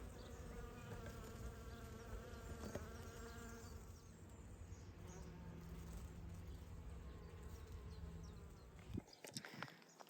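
Bumblebees and honeybees buzz steadily among allium flowers, a dense, continuous drone of many insects close by throughout, with a brief rustle or knock near the end.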